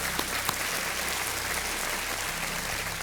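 Studio audience on a televised quiz show claps steadily to welcome a contestant, a continuous wash of applause without voices throughout the short stretch.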